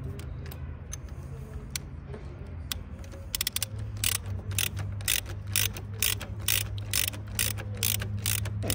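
A wrench ratchets while tightening the original bolt on the side stand of a Yamaha Tracer motorcycle, giving quiet clicking at first, then a close, rapid series of sharp ratchet clicks that keeps a steady rhythm.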